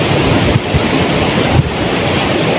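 Sea waves wash onto the shore at a beach resort in Real, Quezon, a steady broadband roar of surf with wind buffeting the microphone, close and loud throughout with no talk.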